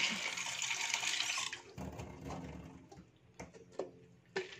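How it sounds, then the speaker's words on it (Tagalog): Water poured into a bowl of snails being washed, starting as a steady close rush of pouring, then giving way to sloshing and a few sharp clinks from the bowl, with no talking. "Lagyan ulit natin ng tubig."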